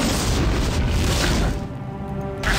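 A trap explodes in Baldur's Gate II, a dense, loud booming roar that fills the whole moment and briefly thins out before swelling again, with no talking over it.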